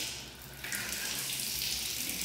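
Running water from a shower hisses steadily and close, a continuous splashing rush that grows a little stronger partway through.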